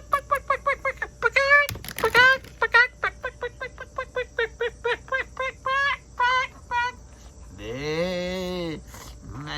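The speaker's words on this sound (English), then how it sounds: "duck. Quack, quack, quack, quack, quack, quack" A cartoonish duck quacks in a rapid run of short nasal calls, loud and close, followed by a longer drawn-out wavering honk near the end, in a children's farm-animal setting.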